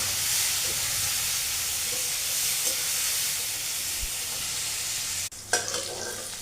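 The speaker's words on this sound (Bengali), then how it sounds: "এবার মাছ ভাজার তেলেই লম্বা লম্বা করে কাটা পটলগুলো একটু লবণ আর হলুদ দিয়ে লাল লাল করে ভেজে নামিয়ে নেব।" Long slices of pointed gourd, seasoned with salt and turmeric, fry in oil left over from frying fish, giving a loud, continuous close-up sizzle and hiss, then a sharp clatter and spatula stirring near the end.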